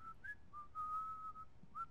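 A whistled tune inside the video game GTA 4: several clear, sustained human-style whistle notes with small pitch slides, moderately loud over a low background rumble, with no talking.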